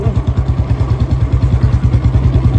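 A Royal Enfield Bullet motorcycle engine running with a loud, close, steady thumping beat of rapid even pulses and no voices.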